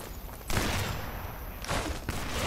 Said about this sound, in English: Somebody is shooting, I don't see where